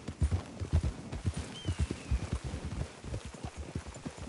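Horses clip-clop along at a walking pace in Red Dead Redemption 2, a steady run of close hoof strikes with no talk over them.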